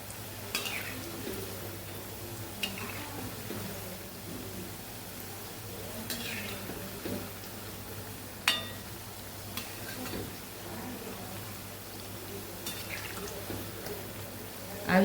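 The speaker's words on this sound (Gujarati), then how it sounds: "બધી સાઈડથી તળીને સરસ ક્રિસ્પી ખારી આપણે તળી લેવાની છે" Khaari pastries frying in a pan of oil over a very low flame with a soft, steady crackle, broken by occasional clinks and scrapes of a utensil turning them.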